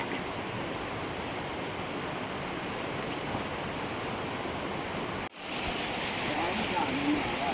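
Rushing river water during a river crossing in a village in Arunachal Pradesh, a steady dense close-up roar and splash that briefly cuts out before resuming.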